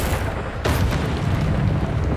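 A Confringo blasting spell from the Hogwarts Legacy video game erupts in a single sudden booming burst, then leaves a dense rumbling roar that carries on loud and steady to the end.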